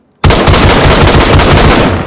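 Loud, close automatic gunfire in DayZ erupts suddenly after a brief silence and continues as a dense, unbroken rattle of rapid shots.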